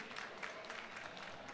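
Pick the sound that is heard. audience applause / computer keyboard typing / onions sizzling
audience applause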